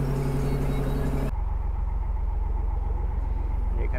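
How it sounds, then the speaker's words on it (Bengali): A trawler boat's engine runs fast on the water off Dublagadi beach, a loud, steady close drone with a low rhythmic throb that continues throughout, its humming tone strongest in the first second. "এই ট্রলারটা বেশ জোরেই যাচ্ছে।"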